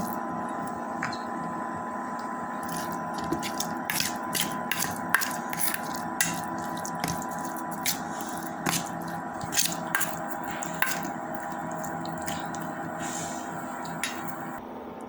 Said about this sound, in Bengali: এবার হালকা একটু তেল দেব। ফুটিয়ে নেব।